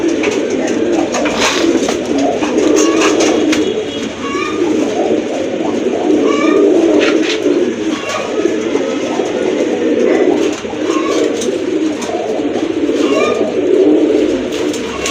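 A pair of Raj Golla fancy pigeons coos steadily and close by, with overlapping throaty calls continuing throughout and a few faint rustles in the background.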